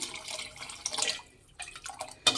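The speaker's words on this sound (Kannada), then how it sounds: "ಇನ್ನೊಂದು ಸ್ವಲ್ಪ ನೀರು ಹಾಕ್ತಾ ಇದ್ದೀನಿ" Water splashes and trickles in short uneven bursts into a pot of lentil sambar, close by, with brief pauses between pours and no speech.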